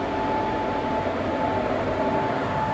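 A steady, close rumbling roar of goods train wagons rolling past, continuous and even with no voices.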